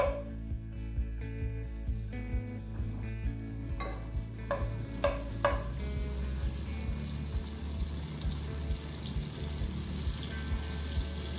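Two tablespoons of butter heating in a pan for sheer korma, crackling into a dense, continuous sizzle, with a few sharp clinks early on and then a steady frying hiss to the end.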